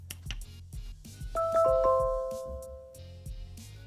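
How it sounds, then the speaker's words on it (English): An Apple HomePod sounds its doorbell chime when the Aqara G410 doorbell camera is pressed: a clear, bright melodic tone of a few ringing notes that ring out and fade over soft background clicks. "your HomePods will chime when someone presses the door"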